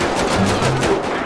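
Rapid automatic gunfire in GTA 5 during a police shootout, a continuous rattling burst of shots at steady volume with no talk.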